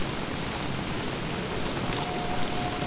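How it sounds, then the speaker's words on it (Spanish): Rain falls at night in the Don't Starve video game, a steady hiss of broadband noise without breaks, unchanging in loudness and free of speech. "la lluvia nos está apagando el fuego"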